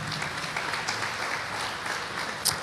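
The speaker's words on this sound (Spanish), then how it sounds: "Démosle un fuerte aplauso al Señor." Sustained applause from a church congregation, a steady wash of many hands clapping that fills the whole stretch, with no speech over it.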